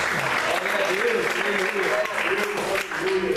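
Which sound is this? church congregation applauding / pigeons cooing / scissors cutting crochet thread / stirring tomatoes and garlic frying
church congregation applauding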